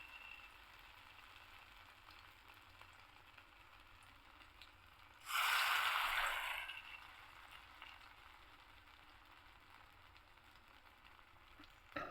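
Lentil and prawn fritters frying in oil, a quiet background broken by a loud burst of sizzling lasting about a second before fading back to near silence.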